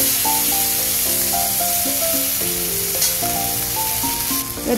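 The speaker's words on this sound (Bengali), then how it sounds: "ওই কড়াইয়ের মধ্যে সর্ষের তেল দিয়ে দেবো দুটো শুকনো লঙ্কা, সামান্য একটু কালো জিরে, আদা বাটা, কাঁচা লঙ্কা বাটা" Dried red chillies, nigella seeds, ginger paste and green chilli paste sizzling in hot mustard oil in a wok: a steady hiss running the whole time beneath loud melodic background music.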